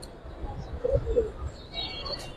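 Soft, close cooing from giribaz pigeons, a couple of brief low calls over steady background murmur and faint chirps, at a pigeon seller's place.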